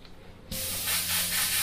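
An Iwata HP-BCS 0.5 mm airbrush blasts paint through with a sudden onset of steady, loud close-up hissing spray that holds and swells slightly over its length, no talking.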